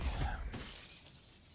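A sharp burst of shattering glass in Call of Duty, loud and close, followed by a scattered tinkling tail that fades out.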